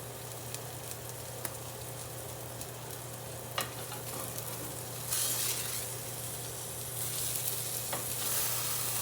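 A burger patty sizzles steadily in a hot pan, a soft continuous frying hiss with occasional sharper crackles and a brief scrape or two, heard alone without talk.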